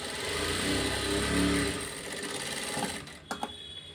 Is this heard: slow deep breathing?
no